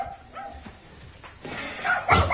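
Dogs barking in a German-language crime radio drama, a few scattered yips and barks that build louder toward the end, with no speech over them.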